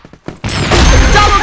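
A flash bomb detonates in a close-quarters shooter video game, a sudden loud broadband blast after a few faint clicks, then a dense ringing roar that holds steady to the end.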